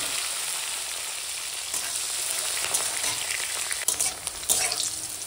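Bitter gourd frying in oil in a kadai, a steady crackling sizzle with occasional stirring scrapes and louder bursts near the end, no voices.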